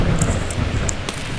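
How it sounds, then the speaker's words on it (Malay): Steady rain hisses outside during a Roblox game, with low rumbling thunder underneath and a few brief sharp crackles, a short, continuous stormy wash with no talking. "Ribut kat luar ya."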